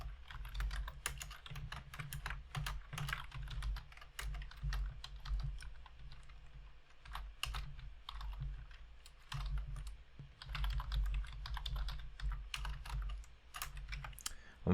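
C++ code for writing a WAV file is typed on a computer keyboard, a long steady run of close, crisp key clicks in bursts with brief pauses, with no voices.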